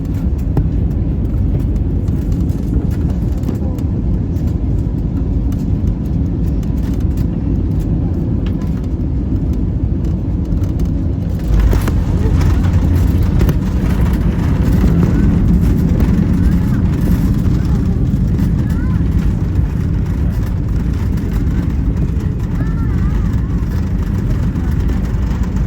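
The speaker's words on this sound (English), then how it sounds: "please enjoy the rest of the approach and landing on Johor Bahru Senai International Airport's" Inside the economy cabin of an AirAsia Airbus A320ceo on approach and landing at runway 16 of Johor Bahru Senai International Airport: a loud, steady low engine and air roar that shifts partway through and never drops away.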